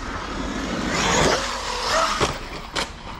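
A Traxxas-style Maxx RC car on a 6S battery runs at quarter throttle, its electric motor whining in a broad, rising and falling sweep close by, with gravelly scraping and short clattering bumps toward the end.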